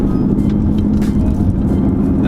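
Manual transmission car engine pulling steadily after a gear shift, a constant low droning hum with road rumble, heard from inside the cabin with no talk.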